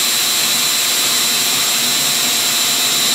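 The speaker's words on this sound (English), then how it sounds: "and drill out the hole, and voila." A drill bores out a hole for instrument panel nutplates on a Piper Super Cub widebody, a loud, steady high-pitched whine running unbroken and close throughout.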